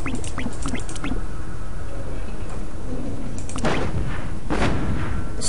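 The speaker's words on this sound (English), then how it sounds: "So currently they're shooting at me." Units in the Planetary Annihilation strategy game trade fire, with bursts of rapid crackling shots and a few heavier booms over a dense, rumbling battle din, loud and close.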